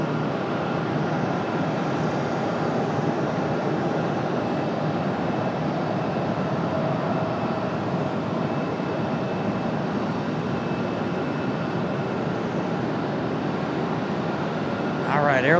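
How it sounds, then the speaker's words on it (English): Aer Lingus airliner touching down at Raleigh-Durham airport, a continuous loud broadband roar of engines and rushing air, steady throughout with no pause, heard from fairly close. "All right, Aer Lingus finally touching down."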